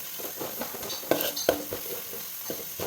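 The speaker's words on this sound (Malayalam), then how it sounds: "ഇനി നമുക്ക് ഇഞ്ചി വറുത്ത് പോരാം." Chopped ginger fries in oil in a pan for pineapple pickle, a soft continuous sizzle broken by the sharp scrape and clink of a metal spoon stirring against the pan.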